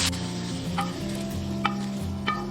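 Pig heart being stir-fried over high heat in a wok, a steady sizzle with scraping stirs and a few sharp clinks of the utensil against the pan.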